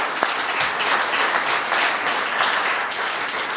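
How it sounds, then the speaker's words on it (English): Audience applause fills a room at a parliamentary event, steady dense clapping that continues evenly throughout. "we should give LFI a round of applause for everything they do."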